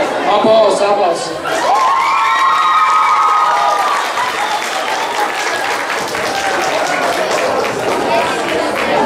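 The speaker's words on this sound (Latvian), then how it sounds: "Aplausi, aplausi." Fifth- and sixth-grade children at a school aerobics day applauding loudly, with cheers, whoops and shouts mixed into the clapping and voices calling out above it.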